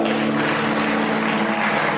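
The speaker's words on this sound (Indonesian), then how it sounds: "kasih tepuk tangan yang meriah" Church congregation applauding during worship, a dense, loud, steady wash of clapping that holds evenly throughout, with a low hum from the hall or sound system underneath and no speech.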